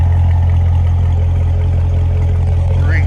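A 2019 Chevrolet Corvette Grand Sport 2LT idles with a deep, steady engine rumble and a constant low throb, close and loud, with a faint light clatter over it.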